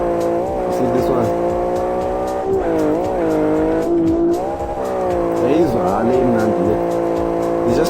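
A racing car engine in Live For Speed revs up and down through gear changes, steady and loud with tire noise mixed in.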